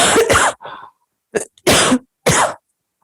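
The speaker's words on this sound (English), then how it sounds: "I'm going to cough." Several harsh coughs come in quick bursts separated by brief pauses, close and loud, with no talking.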